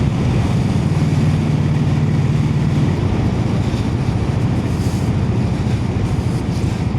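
A Brough Superior SS100 motorcycle with a hand gear change is ridden fast on the road. A steady, loud engine drone mixed with rushing wind runs through the whole stretch, with no voices.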